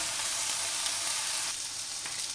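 Vegetables fry in a pan with a steady, close, even sizzle and crackle that holds constant throughout, with no voices.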